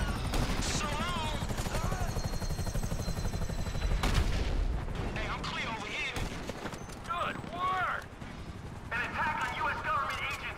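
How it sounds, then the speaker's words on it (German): Helicopters pursue the player in the video game Grand Theft Auto V, a steady loud rotor drone filling the scene alongside bursts of gunfire-like clatter, with voices talking over it. "Wir werden verfolgt von Hubschraubern."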